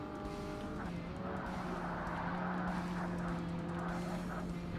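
A race car in Forza Motorsport drives with a strong steady engine tone, an abrupt shift as braking begins near the start, then a long held engine note with light tire scrub throughout.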